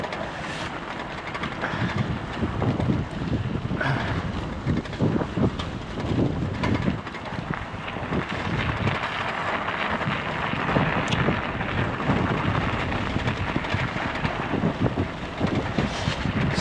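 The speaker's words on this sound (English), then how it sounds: "There's a lot of wind right now, so I don't know if it's coming through the mic." Wind buffets a microphone during a winter bike ride on a park trail, giving a continuous rough rumble and hiss that stays at an even level throughout.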